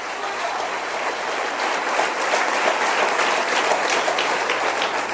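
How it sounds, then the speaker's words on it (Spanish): A congregation applauds steadily at a religious gathering honouring the blessed King, a dense, loud wash of clapping that holds evenly for the whole stretch with no break. "Denle un aplauso al Rey bendito."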